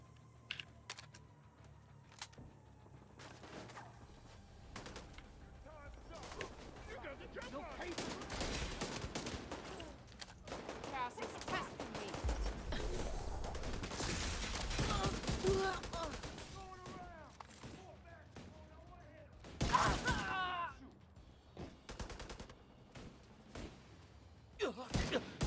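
MDR rifle fire in a video game crackles in dense, rapid volleys over a long stretch, fairly faint overall with brief lulls and a sharper burst near the end, mixed with clicking and occasional voices.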